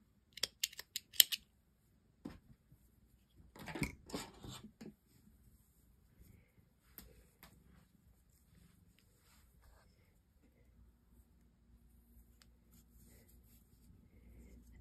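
Scissors trimming yarn threads on a knitted dice bag give a few quick, close snips at the start, then faint rustling and handling in a quiet room.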